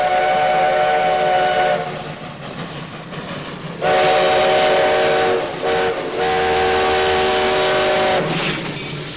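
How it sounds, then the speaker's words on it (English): Hill City 1880 steam train running on the Black Hills line, its loud whistle blowing in several long blasts separated by short gaps over a rumbling engine, close and forceful. "With 2 steam locomotives and many vintage cars, the Hill City 1880 train is a virtual museum on rails."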